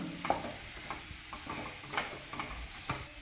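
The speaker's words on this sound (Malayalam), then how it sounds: "ഉരുളക്കിഴങ്ങും കൂടി ചേർത്തതിന് ശേഷം നമുക്ക് എല്ലാം കൂടി നന്നായിട്ടൊന്ന് യോജിപ്പിച്ച് കൊടുക്കണം" Potato masala mixture for bonda being stirred and mixed in a pan, giving soft scraping taps at an irregular pace over a faint sizzle, close and quiet with no voices.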